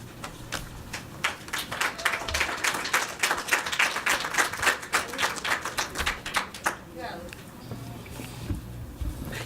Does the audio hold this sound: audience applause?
yes